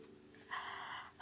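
An adult imitates a tired yawn with a breathy, drawn-out exhale, close and fairly loud, then a sharp intake of breath at the end.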